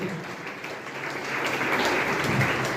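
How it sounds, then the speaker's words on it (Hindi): An audience at an award ceremony applauds steadily, a dense wash of clapping that swells slightly louder partway through. "एक बार जोरदार तालियां होनी चाहिए कि आदर्श के कैंपस तक ये आवाज़ पहुंचे।"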